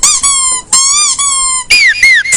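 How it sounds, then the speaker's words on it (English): A squeaky dog toy ball squeals over and over, loud and close: high, wavering squeaks in quick bursts with short breaks between them. "It's a squeaky ball that probably got my friend's dog off the couch."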